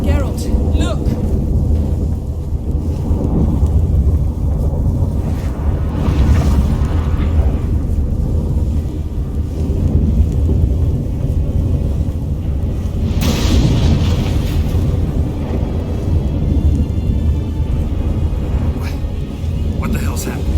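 A sudden supernatural storm in The Witcher 3, with deep rolling thunder and heavy rumbling that swell and crack loudly over steady wind, while voices speak throughout.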